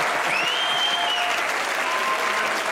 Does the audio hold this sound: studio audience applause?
yes